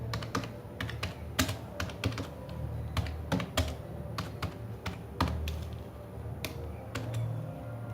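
Rapid typing on a computer keyboard while writing HTML code, with close, crisp key clicks in an uneven rhythm over a low background hum.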